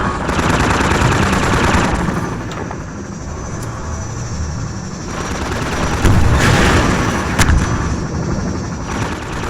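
Rapid machine-gun bursts and heavy booms fill a destructible room while fighting a gunship in Half-Life 2: Episode One, loud continuous automatic fire with sharper blasts and crashes punching through near the middle and end.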